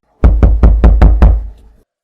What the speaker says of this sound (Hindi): दस्तक धीमी थी, जानबूझकर।